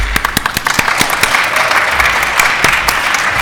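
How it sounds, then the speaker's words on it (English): An audience at a scientific lecture meeting bursts into loud, sustained applause, dense clapping filling the room without a break. "So a round of applause."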